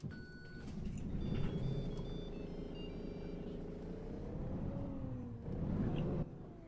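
A Mercedes Citaro bus with an OM457 HLA Euro 2 engine hums steadily in OMSI 2, a low engine drone rising and falling in pitch as it pulls, with faint beeps and clatter on top.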